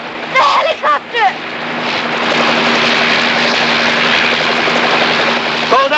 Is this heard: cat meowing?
no